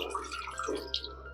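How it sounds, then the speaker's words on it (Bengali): Water sloshing and dripping as flattened rice (chira) is rubbed and rinsed by hand in a bowl, soft splashes and trickles close by, quiet, with no talking. "জল দিয়ে চিড়াগুলোকে খুব ভালো করে ধুয়ে নেব, যে পর্যন্ত পরিষ্কার জলটা বের না হয়।"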